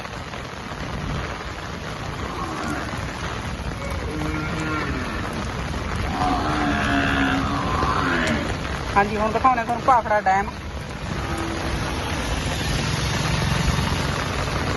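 Steady outdoor rain keeps up a constant broadband hiss of falling water, close and fairly loud, while someone talks over it for most of the stretch.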